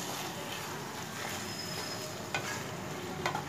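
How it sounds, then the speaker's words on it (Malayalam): A rice side dish being mixed in a pan gives a soft, steady sizzle with a couple of sharp scraping clicks from the spoon, quiet and close, with no voices. "നന്നായിട്ടൊന്ന് മിക്സ് ചെയ്യാം"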